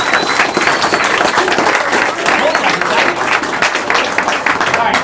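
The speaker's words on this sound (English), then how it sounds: "Round of applause." Loud, dense applause fills the room at a city council investor meeting. The full crowd clapping holds steady throughout with some voices mixed in underneath.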